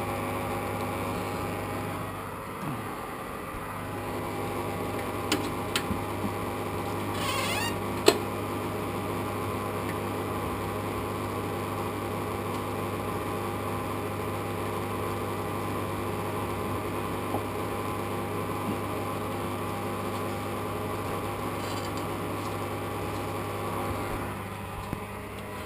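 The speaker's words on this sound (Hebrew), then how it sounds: "המכונה שלי עושה פה רעשים" A 25-year-old AEG washing machine with a faulty water pump gives off a steady, droning mechanical hum with strong low tonal bands, running continuously throughout with a few faint clicks and no talking.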